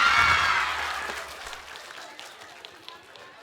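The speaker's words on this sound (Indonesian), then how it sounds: "Kita kasih tepuk tangan sekali lagi untuk Pak Marno." A studio audience at the Indonesian comedy show Funtastik claps in a burst of applause that is loud at first, then fades over a couple of seconds to scattered claps and low room noise.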